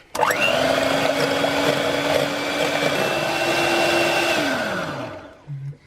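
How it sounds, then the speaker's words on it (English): A motorized whisk whirs steadily through egg whites for about five seconds with a sustained mechanical hum, loud and close, then winds down and stops near the end. "we're going to whisk up our egg whites now"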